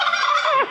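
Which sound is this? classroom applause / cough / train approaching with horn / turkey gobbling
turkey gobbling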